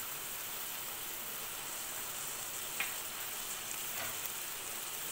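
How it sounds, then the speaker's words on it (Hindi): Tomatoes, drumstick pods and moong dal badi fry with salt in a pan, a steady soft sizzle with a couple of faint stirring scrapes and no talking. "और इसे कुछ देर इसी तरह से भूनने दूंगी।"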